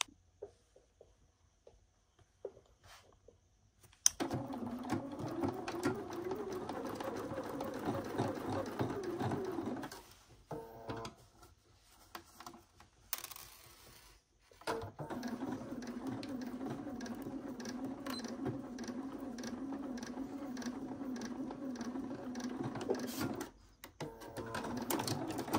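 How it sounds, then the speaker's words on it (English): A sewing machine stitches a bodice in two long steady runs, a close rhythmic whir with a brief pause between them, followed by a short restart near the end. "I'm going to just put in a stitch on this side and I'm going to repeat that on the other side of my bodice as well"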